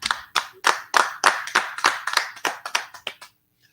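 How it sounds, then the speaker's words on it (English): Podcast hosts clap their hands in a quick, even rhythm of about a dozen crisp, close claps that stop abruptly, with no talking. "give a round of applause for the pizza, please?"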